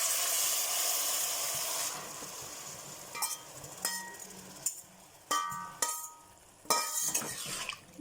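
Uncooked clams tossed into a hot pan for a clam roast, a loud sizzle and hiss at first that fades, followed by a series of sharp clinks and scraping stirs against the pan.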